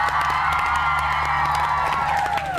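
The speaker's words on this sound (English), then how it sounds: "round of applause!" A studio audience, including young voices, cheering and clapping on a children's TV show, a loud, sustained burst of whoops and applause with scattered claps throughout.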